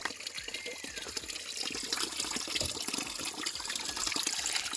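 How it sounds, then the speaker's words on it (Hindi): Water from a natural mountain spring in a village in Pauri Garhwal, Uttarakhand, pours and splashes in a steady, close, fairly loud stream with no talking. "ये आ रहा पानी।"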